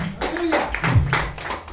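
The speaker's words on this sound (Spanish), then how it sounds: "Dar un aplauso al Señor." A short burst of congregational clapping for the Lord during a Spanish-language church sermon, uneven hand claps with a voice partly over them.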